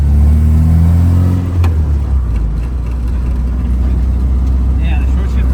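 A K-swapped Datsun 210 pulls away hard, its engine rising briefly then settling into a loud, steady drone with road and wind noise inside the cabin.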